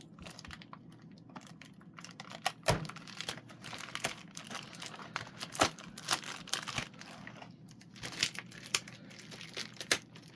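Monster High Clawdeen Wolf doll packaging being opened: close crinkling and rustling of plastic and paper with sharp tearing snaps scattered throughout, no talking.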